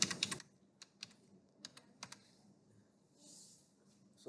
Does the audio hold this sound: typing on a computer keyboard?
yes